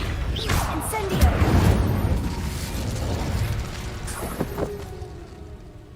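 The Incendio fire spell goes off in Hogwarts Legacy as a loud burst with a whooshing, crackling roar that fades over several seconds, with a few sharp mechanical clicks near the end.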